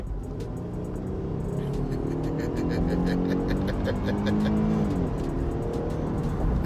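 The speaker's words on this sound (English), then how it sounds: "You can definitely hear the engine revving very high, even on the downshifts." A 2018 Jeep Grand Cherokee Altitude engine revs hard in sport mode and climbs in pitch through the gears, roaring steadily from inside the vehicle with faint rattles over it.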